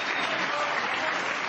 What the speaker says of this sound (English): as the crowd give him the standing ovation